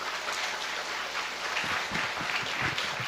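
An audience at a youth knowledge concert welcomes a lecturer with steady, even applause filling the hall for a few seconds, moderately loud and without pauses.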